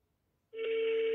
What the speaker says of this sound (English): Oh, it's ringing now.